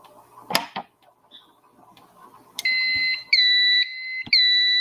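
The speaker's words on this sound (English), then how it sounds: "As you can hear, the panel is beeping." A fire alarm panel beeps after an emergency push station is pressed: a steady electronic alarm tone starts after a few clicks and knocks, sounding in sustained pulses with brief gaps, loud and close.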